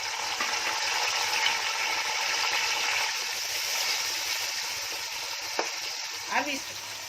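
Four tomatoes, about 300 grams, fry with cumin in a pot for Mughlai chicken biryani, giving a constant close sizzle with a couple of sharp utensil clicks and scrapes toward the end.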